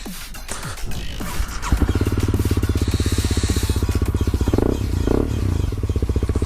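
A Honda CB300F motorcycle engine runs close by, a steady rapid thumping idle that firms up after a short start, with a couple of brief rev swells near the end and no voices.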